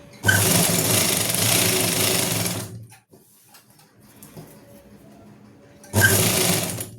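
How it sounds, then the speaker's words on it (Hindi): A sewing machine stitching a suit, running in a loud rapid whir for about three seconds, pausing, then starting up again near the end. "इस तरह से हम यहाँ से सिलाई लगाएंगे। इसी तरह से आपको सिलाई लगानी है ऐसे।"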